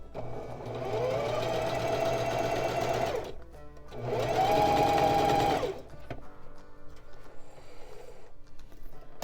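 Domestic sewing machine running a long straight stay stitch on a top, two steady whirring bursts of a few seconds each separated by a pause, followed by quieter clicks and handling.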